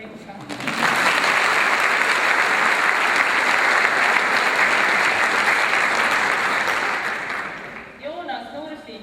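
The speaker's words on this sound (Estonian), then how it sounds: "aga plaksutame talle ikka." Audience at a high school graduation ceremony in Tartu bursts into sustained applause lasting about seven seconds, a dense even wash of clapping that tapers off, with a voice briefly audible at the end.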